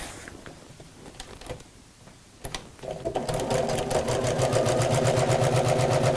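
A domestic sewing machine stitches across faux leather on a messenger bag, starting with a few scattered clicks and handling sounds, then settling into a close, rapid, steady mechanical chatter of the needle.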